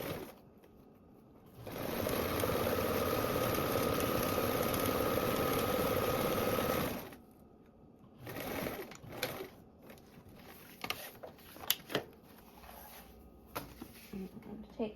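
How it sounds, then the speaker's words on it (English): A sewing machine bastes two fabric layers along the top edge, its steady whirring run lasting about five seconds at close range, followed by quieter fabric handling and small clicks. "baste along the top edge of the two fabrics with a 1/8 seam allowance"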